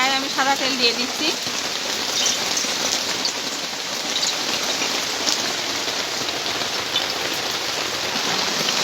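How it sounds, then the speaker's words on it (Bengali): Heavy monsoon rain pours steadily onto a surface outdoors, a dense, continuous hiss of drops that stays loud and even throughout, with faint sizzling from a kitchen wok of oil mixed in. "আমাদের ভিডিও চলার সময় প্রচুর পরিমাণে বৃষ্টি হচ্ছিল।"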